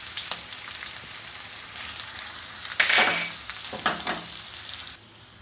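Turmeric and ginger frying in a pan, a continuous close sizzle with crackling bursts as the spices are stirred, ending abruptly.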